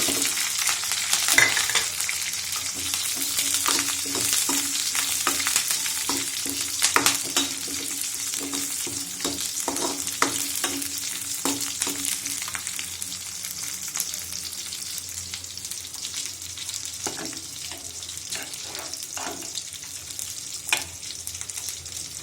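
Onions fry in a pan for a home-cooked Kannada nugge soppu bassaru, a steady hissing sizzle with scattered clicks of stirring throughout, close by, with no voices.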